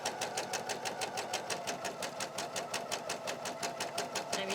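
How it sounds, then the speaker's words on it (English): A sewing machine stitching a hem with a narrow hemming foot, rapid even needle strokes in a steady rhythm, close and fairly quiet, with no talking. "I'm using my narrow hemming foot."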